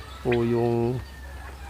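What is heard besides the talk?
rooster crowing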